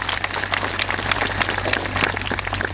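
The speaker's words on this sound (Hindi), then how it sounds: "ताली बजाइए अपने लिए" A church congregation at a gathering in Dongri, Odisha claps together in a brisk, continuous round of applause, many hands at close range over a steady low hum.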